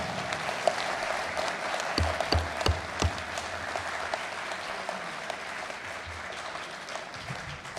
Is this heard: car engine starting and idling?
no